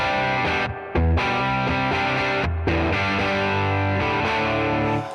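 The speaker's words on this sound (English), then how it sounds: "you can imagine that with distortion like this" Distorted electric guitar chords through an AIWA RB1011 MKII preamp ring out loud and sustained, with a couple of brief pauses between strummed hits and no talking.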